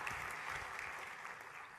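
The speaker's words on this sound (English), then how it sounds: "Let us give a big round of applause Swamiji for his." Audience applause at a presentation, a brief, faint, steady patter of many hands clapping heard from a distance.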